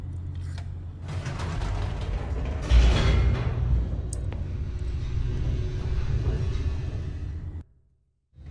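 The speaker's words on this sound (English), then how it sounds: "The elevator raced downward," An elevator in The Stanley Parable descends with a steady low mechanical rumble and creaking, growing briefly louder and grinding partway through before cutting off abruptly near the end.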